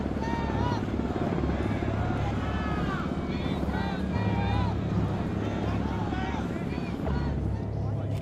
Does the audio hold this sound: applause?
no